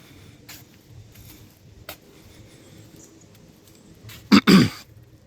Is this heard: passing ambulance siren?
no